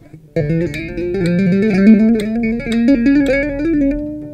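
A bass guitar plays a steady ascending D harmonic minor scale, one note after another, clear and close with no talking.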